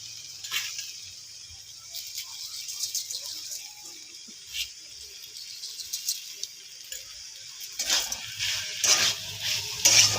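Banana flower being stirred in a pan with salt and sugar, giving soft scattered scraping and pattering with light sizzle-like rustle, quiet at first and busier toward the end.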